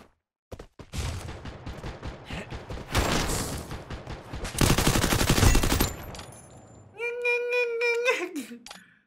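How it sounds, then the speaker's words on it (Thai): Gunfire in a video game, rapid bursts of automatic shots and booms rattling loudly in succession, followed by electronic game tones, with a voice talking over parts of it. "จะยิงใครวะ ยิงไม่บอกไม่กล่าว"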